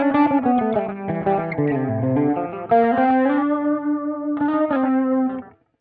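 Electric guitar run through a Flatsons KMF-1 multi-effects pedal with a 310 cabinet simulation, playing a sustained, distorted chordal phrase with effects and echo, loud and close, no talking.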